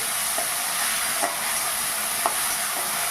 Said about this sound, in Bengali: এইভাবে একটু নেড়ে চেড়ে আমি এটা ভেজে নিই